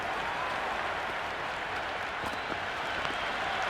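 A cricket crowd in the Cricket 26 video game applauds in a dense, steady wash of clapping that holds at an even level throughout, distant and without any voices.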